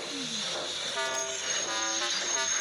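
A train moves along with a rumbling roll and a sustained tonal horn-like whistle sounding over it, fairly close and loud.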